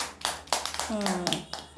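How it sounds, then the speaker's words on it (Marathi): A classroom of young children clapping for a classmate, with a few scattered, uneven claps mixed in among a voice and a brief vocal tone. "ध्रुवासाठी टाळ्या वाजवा सगळ्यांनी"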